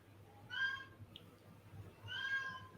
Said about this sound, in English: my cat is coming. She decided she wanted to join the party.